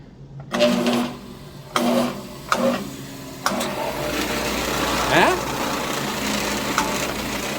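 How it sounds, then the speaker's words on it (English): A Grizzly 4x48 metal belt grinder kicked on with a foot pedal, a few clunks and knocks leading into a steady motor and belt whir that keeps running, with a voice talking nearby. "I got these grinders hooked up to this pedal here, so you can walk up to the grinder"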